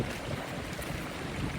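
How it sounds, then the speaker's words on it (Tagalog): Strong wind gusting across an open waterside rice paddy, a constant loud roaring rush buffeting the microphone with no voices. "Sobrang hangin pa naman dito"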